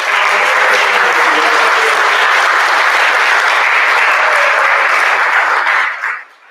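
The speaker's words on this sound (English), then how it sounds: "Let's give them all another round of applause." An audience at an eighth-grade school awards assembly breaks into loud, dense applause that holds steady for several seconds, then tapers off quickly at the end.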